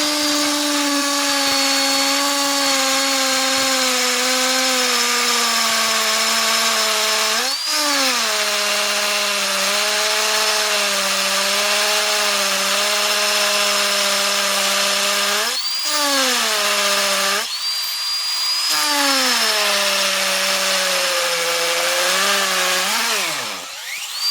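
A vintage Milwaukee NiCad cordless hammer drill on a fully charged battery, running in speed 2 and boring through wood with a loud, sustained whine that dips under load and briefly surges several times.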